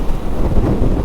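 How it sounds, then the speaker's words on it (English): Strong wind buffeting a microphone while riding a 2024 Harley-Davidson Nightster motorcycle, a loud, constant low roar with no break. "it's a fairly windy day"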